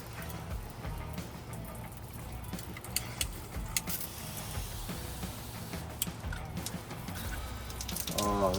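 Water spraying from a shower head fed by an OPENROAD metal shower tank, a faint, steady hiss of spray with occasional splashes and knocks and a brief gurgle near the end.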